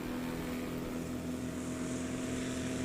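A 2009 Murphy Super Rebel, a large heavy STOL plane from Mora, Minnesota, flies at a practice airpark with a steady, sustained propeller-engine drone and a strong low hum, continuous and fairly distant.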